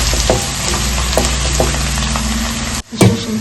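Ginger and garlic frying in hot oil in a pan for a prawn tawa fry, a loud steady sizzle with soft scraping stirs, briefly cut off near the end before resuming.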